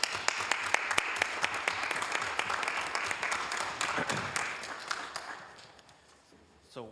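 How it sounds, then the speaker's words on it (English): Audience applause for public servants at a city council meeting in Hayward, a steady wash of many hands clapping with sharp near claps on top, thinning out and fading near the end. "let's give a big round of applause to our public servants"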